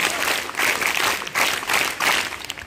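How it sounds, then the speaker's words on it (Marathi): A yoga-day audience claps in unison in three distinct bursts for their yoga teacher, each round of hand claps loud and close with brief gaps between. "पांडुरंग गुरुजी सरांसाठी एकदा 3 टाळ्या"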